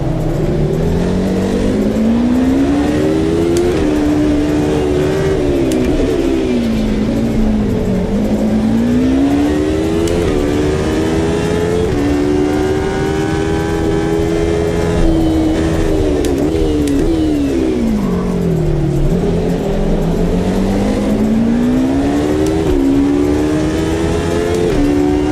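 A Maserati-badged Ferrari Dino race car in Assetto Corsa, racing around Adelaide, with its engine droning loud and continuous, pitch sweeping up through gear changes and dropping on lifts, steady close-up onboard sound throughout.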